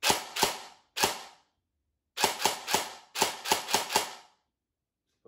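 An airsoft replica gun fires single semi-automatic shots, sharp snappy cracks in uneven bursts of two to four with short gaps between them, loud and close with no voices.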